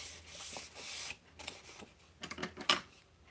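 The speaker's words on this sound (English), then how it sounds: "I'm just gonna snip this by hand this time, I think." Scissors snip paper by hand for a pocket journal, with soft rasping cuts followed by a quick cluster of sharp snips and light paper rustling, close and fairly quiet.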